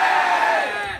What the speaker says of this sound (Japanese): 勝ったと思う方に大きな歓声をお願いいたします